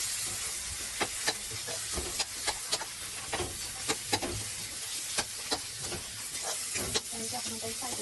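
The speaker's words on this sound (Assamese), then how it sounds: "আলুখিনি অকণ ভাজি দিব" Potatoes fry in a pan with cumin for an Assamese fish curry with rosella leaves, a soft steady sizzle broken by scattered sharp crackles and the occasional clatter of stirring.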